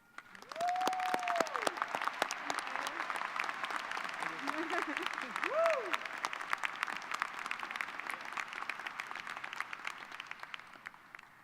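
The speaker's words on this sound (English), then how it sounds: "please join me in a round of applause for Dr. Iverson Cabral." Audience at the University of Washington Bothell 2022 commencement ceremony applauding steadily for a long stretch, moderately distant, with whoops and cheers rising above the clapping early on.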